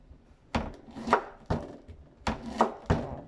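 A knife chops through pineapple on a board in about six sharp cuts that come in an uneven rhythm. The cuts are close and clear, with no voices over them.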